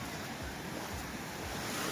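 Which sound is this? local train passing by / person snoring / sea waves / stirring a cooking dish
sea waves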